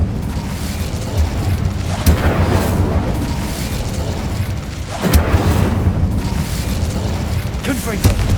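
An Incendio fire spell blasting in the game Hogwarts Legacy on PS5, a heavy roaring whoosh of flame with booming low rumble and repeated surges, loud and continuous, with a voice heard partway through.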